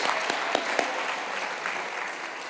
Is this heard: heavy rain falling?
no